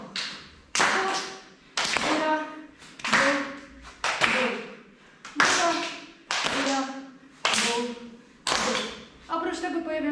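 Sharp hand claps in a dance routine done standing with legs apart, about ten evenly spaced claps alternating to each side, with a voice counting or talking between them.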